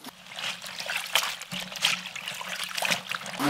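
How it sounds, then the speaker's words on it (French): Water trickles and splashes in a bucket during hand-washing of laundry at a simple lodging in Indonesia, with soft dribbling and irregular small splashes throughout, close and moderately quiet. "je fais la lessive en fait"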